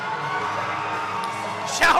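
A crowd at a SoCal Pro Wrestling show in Vista, California cheers and whoops throughout, a sustained roar of voices with a sharper burst of yelling near the end.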